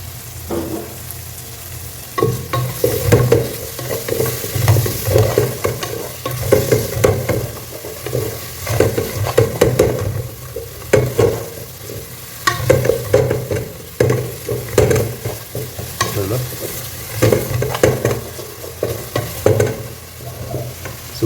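About 100 ml of oil heats in a pan over a medium flame for Dindigul mutton biryani, giving a loud, steady sizzle broken by repeated scraping and stirring strokes, with no talking.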